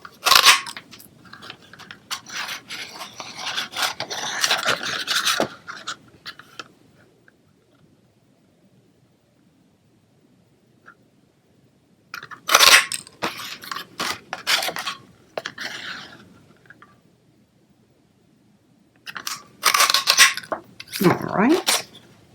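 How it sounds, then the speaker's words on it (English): A classic label punch cuts paper labels for card making, with crisp crunching snips and rustling paper in three separate close bursts divided by quiet gaps. "I have the classic label punch, and I'm just going to cut out the ones that I want here."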